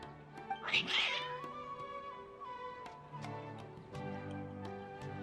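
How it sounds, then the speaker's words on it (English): Agitated cats in the video game Genshin Impact let out a short burst of wavering meows near the start, then fall quiet over soft, sustained in-game music tones. "Your cats seem pretty worked up."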